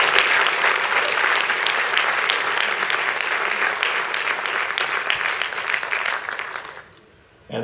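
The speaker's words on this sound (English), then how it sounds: "So could we give them a round of applause?" A film forum audience in Singapore gives the organisers a sustained round of applause on opening night. The dense clapping from many hands holds steady for about seven seconds, then fades out quickly.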